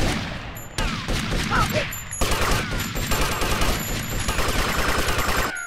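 Gunfire in GTA Vice City crackles in dense, rapid bursts across the whole stretch, loud and close, with someone shouting briefly over the shooting.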